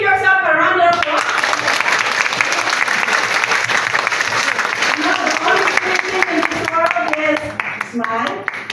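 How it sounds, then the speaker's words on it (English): Graduates applauding at a teacher training ceremony in educational technology, a dense, loud burst of clapping that runs steadily, with voices and music-like tones at the edges. "give yourself a round of applause."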